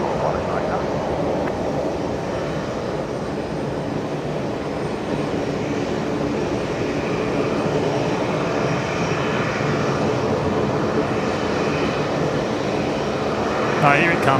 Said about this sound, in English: Oh, here it comes. The Link Airways Saab.